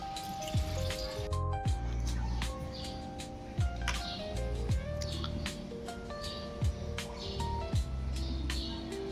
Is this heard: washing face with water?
yes